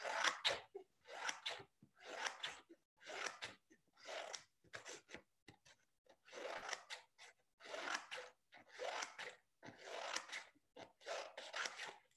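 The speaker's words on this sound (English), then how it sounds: "get a small piece of paper like this, which is A5, and get some scissors and cut" Scissors snip A5 paper into small strips for a fringe, a quick series of crisp cuts grouped in short bursts with brief pauses between them, close and clear, no speech.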